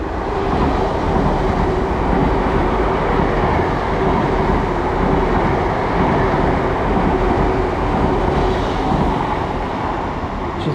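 Class 802 IET train unit 802-107 runs through Teignmouth station on its way to Penzance, a loud, steady roar and rumble of wheels and engine that holds close and constant throughout.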